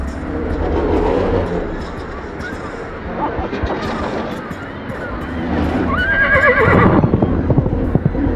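A winged stone stallion neighs in the fantasy game Argonus and the Gods of Stone, with a loud whinny near the end over rushing wind and a dramatic game soundscape.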